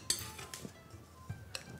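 Metal spatulas scraping and tapping while urushi lacquer is mixed for a limited-edition fountain pen: a few quiet, brief clicks and scrapes spaced irregularly, close by, with no talking.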